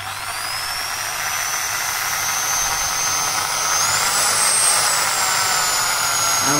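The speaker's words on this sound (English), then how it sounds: "Let's try to drill it. So we are going to drill." A high-pitched electric drill whines continuously, its tone shifting upward as it grinds into a plastic bank card, steady and close.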